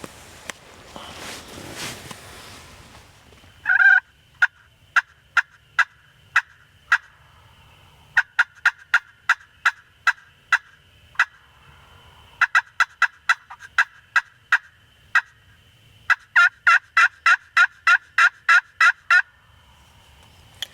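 Wild turkeys gobbling repeatedly in a Georgia pasture, rapid bursts of calls in irregular clusters, clear and moderately close, with a rustle of movement at the start.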